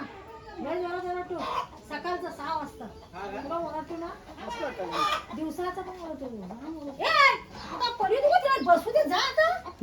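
Rooster clucks and crows close by, with people talking over and between the bird calls.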